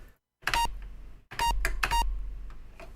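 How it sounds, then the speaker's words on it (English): An Apple II computer booting from floppy gives off a series of short electronic beeps in two clusters over a low steady hum, close and fairly loud. "I don't want that beep so loud"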